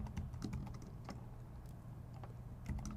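Close, fairly quiet typing on a computer keyboard, with irregular light key taps over a constant low hum and short bursts of clicks near the start and end.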